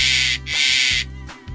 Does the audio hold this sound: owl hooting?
yes